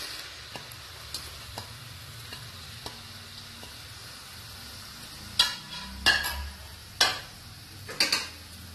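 Three medium onions fry in melted butter for paneer butter masala, with a low steady sizzle at first, then several louder scraping stirs in quick succession toward the end.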